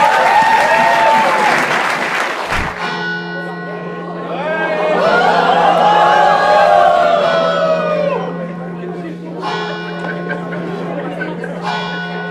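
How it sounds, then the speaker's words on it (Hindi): Audience at a stand-up comedy show breaks into applause, clapping swelling and then easing off alongside a steady sustained tone and a few scattered voices. "ताली बजाएं एक बार, round of applause for self"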